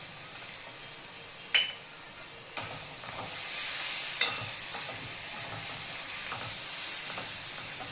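Ground green chili, garlic and coriander paste with asafoetida and turmeric frying in hot oil, a steady close sizzle and hiss that swells after sharp clinks of a spoon against the pan, with no talking.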